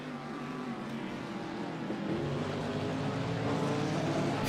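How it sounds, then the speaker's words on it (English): A Wheelen Engineering Cadillac race car enters the pits at Daytona during a 24-hour endurance race, heard as a continuous broad engine roar that is fairly distant and grows slightly louder over the few seconds. "that is the number 31 Wheelan Engineering Cadillac into the pits as well"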